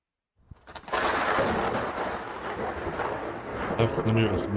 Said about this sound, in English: Storm outside really is raging.